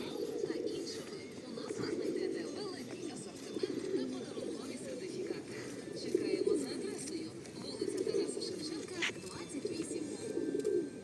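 Pigeons coo in low, repeated burbling phrases close by, with a steady murmur of outdoor background noise in central Truskavets.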